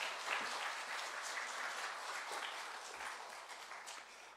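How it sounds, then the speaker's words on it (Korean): A church congregation applauds steadily, a dense wash of clapping that holds for several seconds and slowly tapers off. "우리 큰 박수로 환영합니다"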